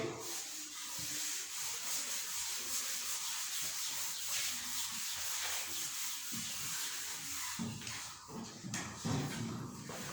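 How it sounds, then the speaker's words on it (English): A board in a mathematics classroom is rubbed clean with a duster, giving a continuous close scraping and swishing rasp that runs steadily for about ten seconds. "I'll rub the board"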